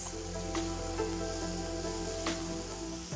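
Sev tamatar sabzi of tomatoes, spices and a little sugar is stirred in a pan, with a steady close sizzle and a few distinct scrapes and knocks of the spoon against the pan.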